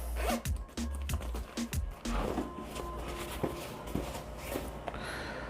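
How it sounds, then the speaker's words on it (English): Zippers worked on red leather car seat covers for a Mazda MX-3, giving several short rasping zips close up amid handling rustle and light thumps, with no talking. "Here's the zippers"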